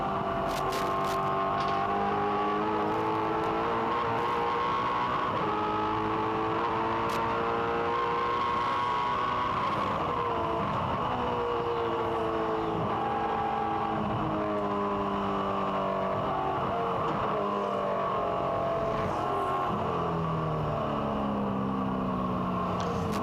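In-car sound of a Supercars race car at Pukekohe International in 2003 on a wet track: the V8 engine revs up and down through gear changes, loud and close for the whole stretch.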